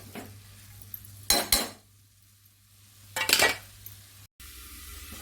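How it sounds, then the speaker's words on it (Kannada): Metal lid of a pressure cooker lifted off with two sharp clanks and scrapes, separated by quiet kitchen hum, while cabbage palya is being cooked. "ನಾನು ಇವಾಗ ಕುಕ್ಕರ್ ಮುಚ್ಚಳವನ್ನು ತೆಗಿತಾ ಇದ್ದೀನಿ"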